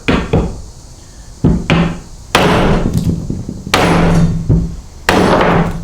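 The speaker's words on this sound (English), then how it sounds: "5 times, just as hard with this claw hammer" A claw hammer pounds a glued wood joint in a glue strength test, five loud, sharp blows spaced about a second apart, each ringing briefly with a woody knock, close and alone.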